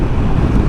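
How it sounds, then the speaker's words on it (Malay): Strong highway wind roars against the microphone while riding a Kawasaki Z900SE motorcycle in early rain, a steady loud low buffeting rumble throughout with no talking. "Angin kuat."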